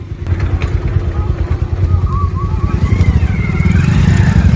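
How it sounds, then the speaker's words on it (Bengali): A motorcycle engine drones close up during a ride near bridges over the Damodar river, its pulsing throb steady and strengthening, with wind and road noise around it. "কেননা বাইকের আওয়াজ প্লাস এখানে আরো চারিদিকে আওয়াজের জন্য"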